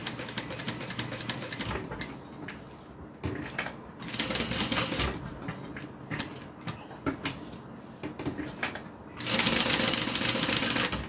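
A sewing machine stitches a nameplate in bursts of rapid mechanical stitching, running loud and steady at close range with short pauses between runs.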